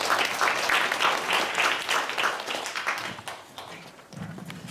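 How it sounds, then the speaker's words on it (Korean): Audience applause at an environmental rally about rivers, a fairly loud, dense patter of clapping that tapers off after a few seconds as a voice starts to come in. "박수 부탁드립니다."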